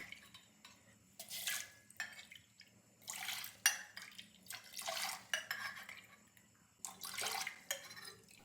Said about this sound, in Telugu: ఇప్పుడు అదే గ్లాస్తో 2 గ్లాసులు బియ్యం శుభ్రంగా కడుక్కోవాలండి